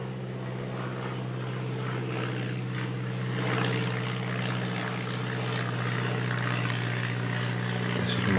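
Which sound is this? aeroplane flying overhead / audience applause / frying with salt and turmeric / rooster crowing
aeroplane flying overhead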